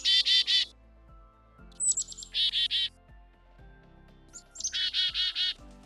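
A black-capped chickadee gives several bursts of its call near a feeder, with rapid buzzy notes in short repeated groups and brief higher whistles, close and clear over quiet background.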